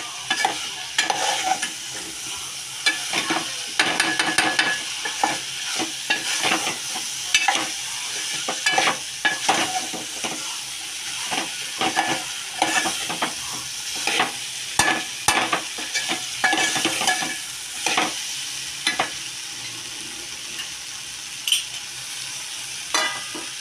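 Mixed vegetables with chilli powder and other spices stir-fried in a pan over medium gas, a steady sizzle broken by frequent scraping strokes of a spoon against the pan, close and fairly loud, with no talking.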